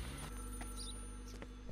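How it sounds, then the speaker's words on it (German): A telephone rings inside the video game Contraband Police, a steady electronic ringing tone with a few faint clicks, heard alone at moderate level. "Telefon!"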